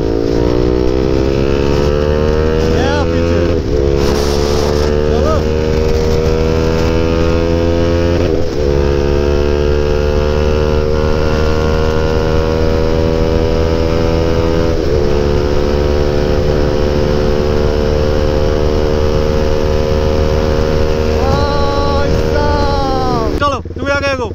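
Two KTM RC 390 motorcycles, a 2022 model and an older BS6 model, accelerating hard in a drag race. Loud, close engine drone climbs in pitch through several gear shifts, with wind noise throughout and a voice calling out over it.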